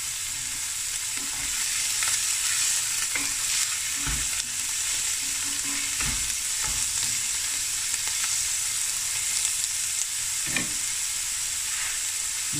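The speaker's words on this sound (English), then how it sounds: "I'm just going to sweat down the onions until it's a nice golden brown" Onions, with optional chilies, frying and sweating down in a pan for a traditional meat and potatoes dish, a steady loud hiss of frying with occasional soft stirring knocks, close and continuous with no talking.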